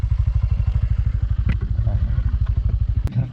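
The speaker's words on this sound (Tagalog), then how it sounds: "Ni paslak lagi ang tambutso." A Sniper 155 motorcycle's exhaust scraping the ground over a fast, steady engine thumping rhythm, loud and close, with a couple of sharp scrape bursts; a voice murmurs briefly.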